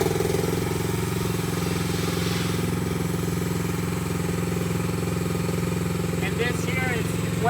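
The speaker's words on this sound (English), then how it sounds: "So what I'll do next is I'll start the engine." The engine on a steerable step deck trailer idles steadily, a close, even, low mechanical drone that runs the whole time. A voice speaks briefly over it near the end.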